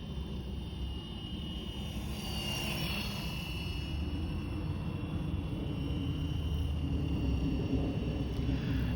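A Flywing FW450L RC helicopter with an Ace flight controller flies flips and rolls overhead, its steady whirring drone holding close and constant throughout.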